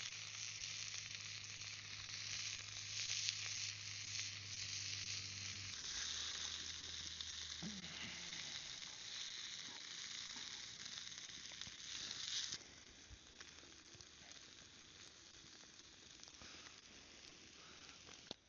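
Kielbasa and potato frying in a pan at a lakeside campsite, a steady close sizzle with occasional scrapes of stirring and a low hum early on that stops partway through.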